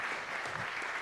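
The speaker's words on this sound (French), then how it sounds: "on peut vous applaudir" Applause from a seated audience at a mobility talk, a brief, even patter of many hands clapping at moderate volume.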